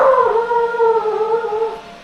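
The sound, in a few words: dog barking outside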